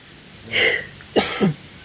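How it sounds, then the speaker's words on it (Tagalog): A person coughs close by: one harsh cough, a pause, then two quick rougher coughs. "Grabe yung ubo niya."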